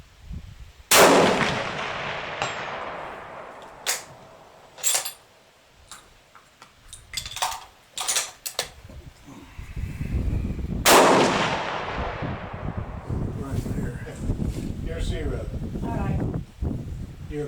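Rifle shots at a steel plate 400 yards away ring out as two loud, sharp reports several seconds apart, each trailing off into a long decay, with rustling, clicks and people talking in between.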